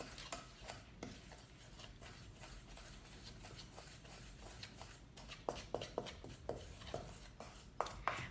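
A cookie mixture is stirred in a pan with soft scraping strokes, quiet and close, the strokes growing more frequent and sharper toward the end.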